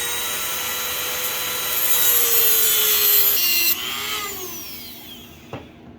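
Blade cutting through a carburetor overflow tube on a 22 Icebear Champion carburetor, a steady rasping saw-like stroke that rises in intensity midway, then fades out with a small snap near the end, no talking.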